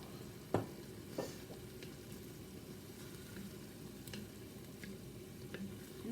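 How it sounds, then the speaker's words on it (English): Red wine and carrots cooking together in a pan after roughly half a bottle of dry red wine goes in for a homemade tomato sauce, giving a steady low simmering sizzle with a couple of brief clinks of stirring near the start. "And now you just want to cook the wine in carrots"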